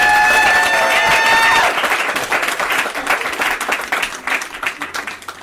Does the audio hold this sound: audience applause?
yes